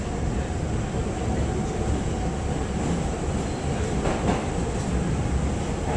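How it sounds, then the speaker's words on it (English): Constant rumbling roar of a subway train in motion, close and loud, with faint rattling clicks and no pauses. "Are we in the subway?"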